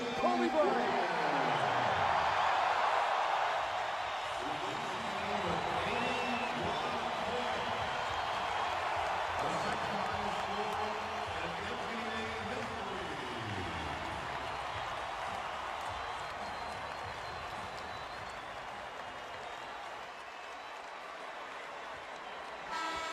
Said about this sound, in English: listen to this crowd for number 8, Kobe Bryant